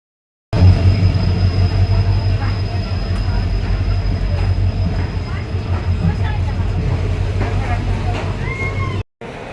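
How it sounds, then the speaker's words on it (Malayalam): A railway station gives a loud, constant low rumble with a steady high whine from trains, plus scattered clatter and footsteps, and voices talking nearby. "എത്തിയിട്ടുണ്ട് റെയിൽവേ സ്റ്റേഷനിൽ"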